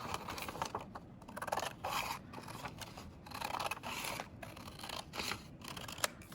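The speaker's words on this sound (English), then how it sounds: "So take a pair of scissors and cut it." Scissors cut through computer paper in a series of crisp snips and rasping slices, close and fairly quiet, with brief pauses between cuts.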